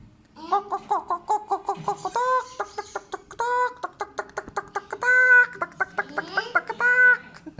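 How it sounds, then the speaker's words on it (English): Repeated hen clucking, a run of short rhythmic clucks with some longer drawn-out calls, close and fairly loud, with no talk over it. "Hen."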